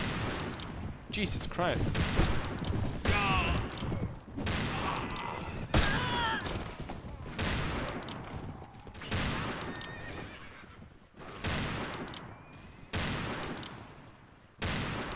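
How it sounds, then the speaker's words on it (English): Revolver gunfire in Mount & Blade Warband, an 1860s America setting, as repeated sharp shots burst out across the span amid horse whinnies and battle din, with someone talking over it. "How many shots have I fired? It's more than there must be in the revolver."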